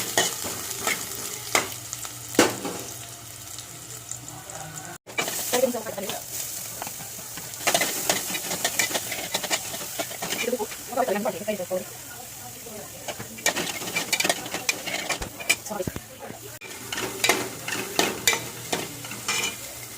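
Vegetables frying in hot oil for fried rice, a continuous sizzle with frequent stirring scrapes and clanks of a utensil on the pan, close, with a voice talking over part of it.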